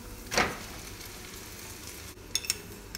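Cooked rice hits a hot pan with sambal terasi for nasi goreng, giving a loud burst of sizzling that settles into a steady, close frying hiss with a few light scraping clicks near the end.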